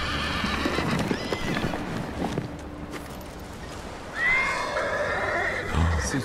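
A horse whinnies loudly amid ambient outdoor noise in the video game Ghost of Tsushima, with the clip-clop of hooves and a second shrill neigh rising toward the end.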